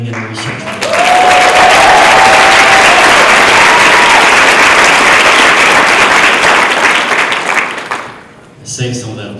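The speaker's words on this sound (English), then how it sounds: "Save some of that applause, it gets better." A large audience at an animal rights conference bursts into loud, sustained applause that holds steady for several seconds and then fades out, with a voice briefly heard at the start and again as the clapping dies away.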